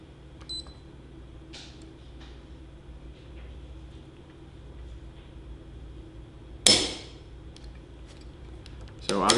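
Two sharp mechanical snaps from a Cabot 1911 pistol's trigger being pulled on a trigger scale, one a few seconds apart from the other, with faint clicks and small handling noises in a quiet room.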